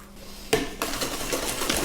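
Eggs being whisked into banana bread batter in a bowl, a steady brisk scraping and clinking that starts abruptly and keeps going, close and fairly loud, with no talk over it.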